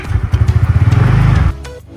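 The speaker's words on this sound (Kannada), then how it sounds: "ಬೈಕ್ ಬೇಡ, ಸ್ಕೂಟರಲ್ಲಿ ಹೋಗುವ." A scooter engine hums and putters with a pulsing, rhythmic note while riding toward town on a countryside trip, then suddenly drops away to quiet.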